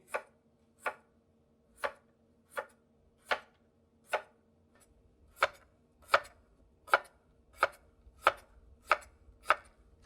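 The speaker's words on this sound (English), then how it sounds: "we're gonna cut them in half moons again" A knife chops potatoes into half moons on a cutting board, about fourteen crisp, evenly spaced thuds at a steady pace, close and clear over a quiet room with no talking.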